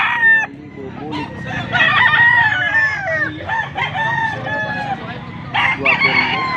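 A stag rooster crows repeatedly close by, loud and strained, with clucking from other chickens mixed in and the crowing recurring through the stretch.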